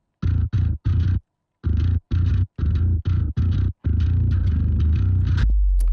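Clean, round bass guitar notes through the Joey Sturgis Tones Bass Forge Rex Brown signature amp plugin, played in short rhythmic bursts separated by pauses, ending in a sustained note, loud and up front.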